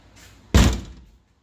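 A door on a Nissan Skyline R32 shuts with a single loud, close thunk, after a faint latch click, then the sound fades quickly to quiet.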